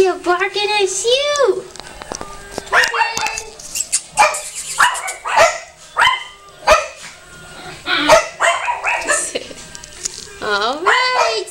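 Close, loud barks and yips from a dog come in irregular bursts with some whining, while a woman chatters to the animal between and over them.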